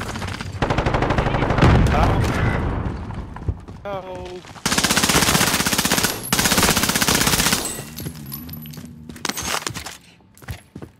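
Rapid automatic gunfire in a video game firefight, with long dense bursts and sharp single shots, some near and loud, others more distant, while players talk over it.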